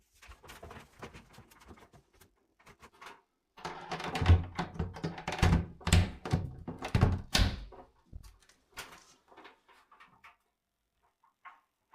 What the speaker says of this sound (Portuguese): Com os retoques secos, posso recolocar as portas do armário.